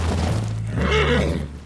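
A horse rears back and whinnies in Red Dead Redemption 2, a loud, close, drawn-out neigh with a low rumbling undertone, lasting under two seconds.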